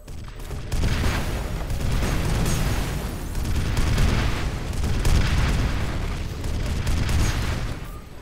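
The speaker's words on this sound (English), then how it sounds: "It's a grenade." A grenade detonates in the shooter game F.E.A.R., a loud booming blast that rolls into a sustained rumbling roar with debris and crackle lasting several seconds, no voices.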